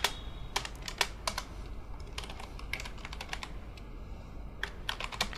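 Close, crisp keystrokes on a computer keyboard come in irregular bursts and pauses while code is entered, with no talking.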